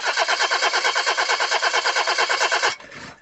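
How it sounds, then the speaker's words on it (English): Car engine cranking but failing to start, a loud, close, rapid rhythmic churning of the starter that runs steadily for nearly three seconds, then cuts off into a brief quieter rumble. "Car won't start?"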